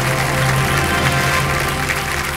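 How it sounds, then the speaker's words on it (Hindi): Studio audience applause on the game show Kaun Banega Crorepati, a loud, continuous burst of clapping from many hands with a steady background hum beneath it. "सर ताली बज गई है, आपने बिल्कुल सही जवाब दिया"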